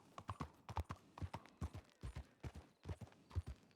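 Horse hooves clip-clop at a steady trot in a Red Dead roleplay game, an even run of close, distinct footfalls with no talk over them.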